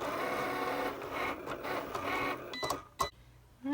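A Cricut Explore cutting machine slices bonded fabric with its bonded fabric blade, giving a steady mechanical whir and carriage rattle that runs nearly continuously, then breaks into a few sharp clicks and stops near the end.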